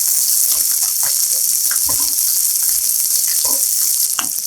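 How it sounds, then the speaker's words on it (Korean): Onions stir-fry in a pan, alongside shrimp, with a loud, dense sizzle close up. Scattered clinks and scrapes of stirring come through it, and no voice is heard. "양파 넣고 볶아 반 정도 익으면"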